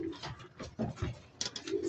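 Pigeons or doves coo softly beside a nest holding two eggs, with repeated low cooing calls and light rustling close by, no talking.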